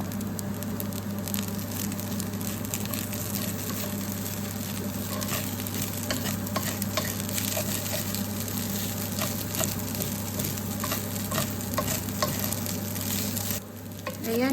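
Filipino bagoong fried rice frying in a pan, a continuous loud sizzle with repeated scraping stirs of a spatula against the pan, then a brief dip and a louder clatter near the end.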